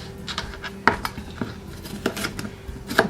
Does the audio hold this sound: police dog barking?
no